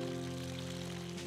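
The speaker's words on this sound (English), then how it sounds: "you purify yourself at the water pavilion by rinsing your hands and mouth with water" Water pours steadily at a shrine's purification pavilion, where visitors rinse their hands and mouths. A close, continuous splash runs alone for just over a second over a low steady hum.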